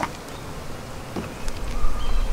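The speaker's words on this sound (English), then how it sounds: "These bees are on me." Honey bees buzzing close around a beekeeper during a hive inspection, a dense, steady hum with brief louder passes near the microphone and a low thump toward the end.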